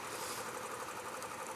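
Royal Enfield Classic 500 motorcycle engine idling steadily with a slight vibration, a continuous close, moderately loud drone with no talking.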